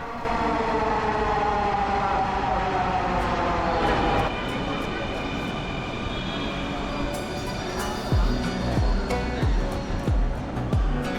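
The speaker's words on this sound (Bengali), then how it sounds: "আমাদের ট্রেন ইতিমধ্যেই চলে এসেছে" A metro train pulling into a station platform, a loud rising and falling electric whine with steady rumble and clattering, close by, with voices heard faintly in the background.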